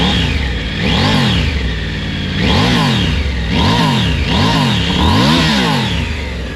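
Triumph Tiger 900 Rally Pro or GT Pro motorcycle engine revved close up, four loud, shrill throttle blips that rise and fall in pitch at a steady rhythm over a continuous idle.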